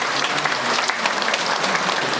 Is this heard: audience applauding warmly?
yes